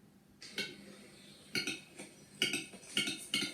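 Guiro scraped in short rasping bursts standing in for the call of a capercaillie, several quick ratchety strokes grouped in pairs and clusters, fairly quiet and close with no talking.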